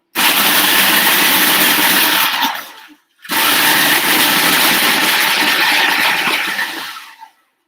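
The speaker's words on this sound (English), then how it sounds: "We're just going to pulse this. Every food processor has a little pulse action, and that kind of lifts it up and stirs it around as it's going." A food processor pulsing to crush crumbs for a frozen Jello pie, two loud, steady whirring bursts split by a short pause, the second running longer before cutting off.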